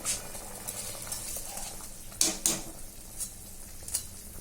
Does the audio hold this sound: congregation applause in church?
no